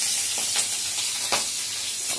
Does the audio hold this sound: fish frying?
yes